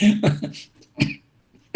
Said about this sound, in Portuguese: Tossindo.